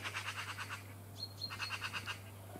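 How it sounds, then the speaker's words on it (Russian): Young magpies that have just left the nest call from nearby, quiet bursts of rapid, repeated harsh chirps in two rhythmic runs separated by a short pause, over a low steady hum. "Сороки, наверное, вышли, мелкие сороки, наверное, вышли с гнезда"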